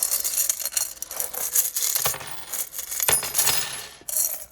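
Metallic clinks and tinkling rattles of small hard objects sound close by in quick, scattered bursts, like a small charm hitting and skittering on the floor.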